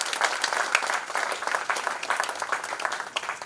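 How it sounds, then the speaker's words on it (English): Sustained applause from a large crowd, steady dense clapping throughout with no pauses. "So this needs a huge round of applause."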